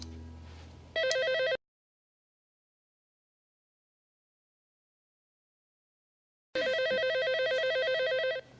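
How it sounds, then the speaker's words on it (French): A telephone rings in two clear electronic bursts separated by several seconds of silence, each burst a rapid warbling trill, close and loud. "Tu sais que des fois, quand on décroche le téléphone, ça peut s'arrêter."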